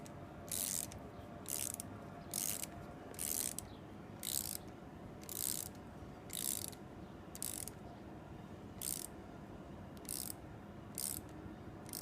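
A ratchet wrench tightens a bolt while an axle shaft is fitted on a Jeep Grand Cherokee ZJ 5.9, giving regular bursts of clicking about once a second, with a low background hum and no talk.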